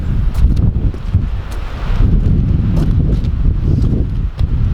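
Wind blows hard outside in a Virginia winter setting, producing a loud, continuous rumbling buffet of gusts with rustling and occasional faint clicks, no voices present.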